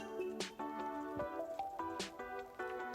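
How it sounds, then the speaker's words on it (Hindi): Soaked chia seeds stirred together in a bowl for a coconut milk dessert, wet squishy clicks and drips in an uneven rhythm, close and soft, with background music and no talk. "अब इन तीनों चीज़ों को हम अच्छे से करेंगे मिक्स।"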